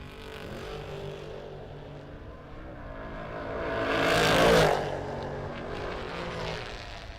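Drag race between a Chevy II and a Firebird at an annual bracket race: engine roar builds from a distance, peaks loudly as the cars pass, then fades back to a steady distant drone.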